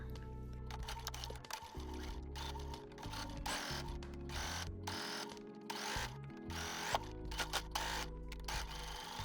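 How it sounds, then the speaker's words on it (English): A sewing machine runs a row of stitches close to the folded hem edge of a sleeveless summer top, giving a steady close mechanical whir broken by several short pauses. "Sew a row of stitching close to the folded edge"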